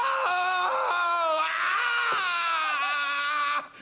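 A woman screams close up in one long, loud, wavering cry that shifts pitch with brief catches, ending abruptly.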